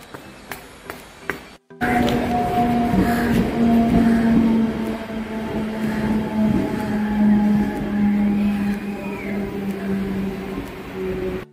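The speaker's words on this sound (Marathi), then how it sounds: "ट्रेन भेटायला पाहिजे पटकन." A train runs steadily with a loud, close rumble and a sustained hum from inside or beside the carriages, starting abruptly after a few faint knocks and continuing without speech.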